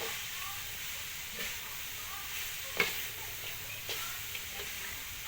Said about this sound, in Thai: ตอนนี้กำลังขัวข่ากับหัวหอมเทียมหอมแดงกับหัวข่า